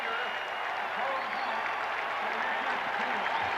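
Football stadium crowd at a 1991 Redskins versus Bears game roaring steadily, a dense broad wash of cheering and applause that holds loud and constant throughout.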